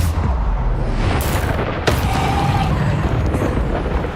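The Bombarda explosion spell in Hogwarts Legacy bursts out as dense, loud rumbling booms, with a couple of sharp cracking blasts set into a continuous roar of game combat.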